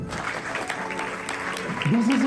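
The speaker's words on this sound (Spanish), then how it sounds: "le voy a pedir que reciban un fuerte aplauso a un amigo Héctor Tena" Audience clapping to welcome a speaker at a fitness industry event in Peru, brisk continuous applause from a crowd with a voice talking over it, a sustained tone rising near the end.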